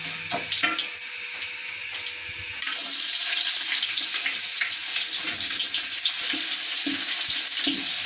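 Whole spices such as star anise and black cardamom crackle in hot oil, then sliced onions for pakki biryani drop in and a loud, steady, hissing sizzle takes over, with occasional stirring knocks.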